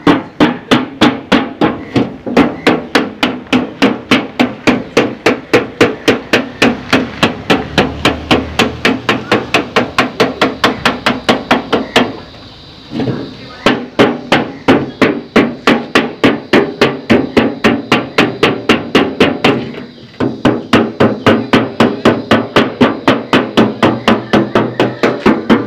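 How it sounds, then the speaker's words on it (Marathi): Steady, rapid hammer blows cutting open metal tins, struck in a loud, regular rhythm close by, with two brief pauses partway through and no talking. "अशा प्रकारे आपले डबे कापून झालेले आहेत."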